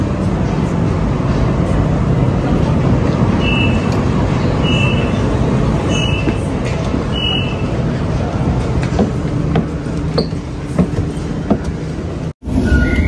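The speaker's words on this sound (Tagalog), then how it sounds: "makita natin ang train." A train rolling past on a Sydney street, loud and close with a continuous rumble and clatter of wheels, a brief dropout near the end.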